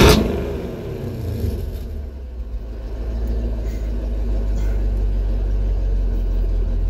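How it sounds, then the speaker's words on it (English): A Chevrolet Camaro V8 runs with its exhaust valve open, giving one loud rev blip at the start that settles into a deep, steady, throaty idle rumble close by. "I'm gonna open it up for you so you can hear in heaven."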